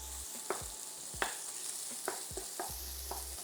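Onions frying in a generous amount of oil in a pan, a continuous sizzle broken by regular scraping strokes of a spatula, roughly five or six stirs, close and steady.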